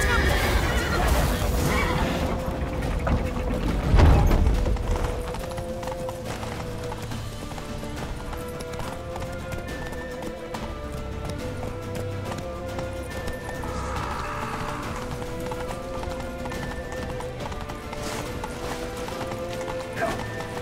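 A horse gallops with steady clip-clopping hooves and neighs once early on in The Witcher 3, set against a dense, continuous game soundtrack and ambience.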